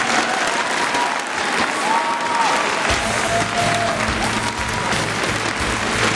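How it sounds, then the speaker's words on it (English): An audience applauds steadily for several seconds at a StarCraft II GSL 2012 World Championship event, a dense wash of clapping with a faint voice briefly audible underneath. "So if you can, give a round of applause."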